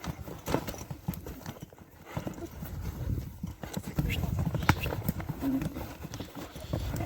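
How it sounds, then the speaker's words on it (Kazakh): Karabair horses fighting during an ulak tartysh gathering in Ozgon, with irregular hoof clopping and thuds on the ground, a faint whinny, and people talking and shouting in the background. "атты уруштуруп дагы көрдүк бул чыгарылышта"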